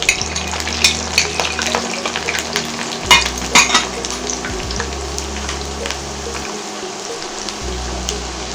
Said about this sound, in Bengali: আমি ফ্রেঞ্চ ফ্রাইগুলো ফাইনালি ভেজে নিচ্ছি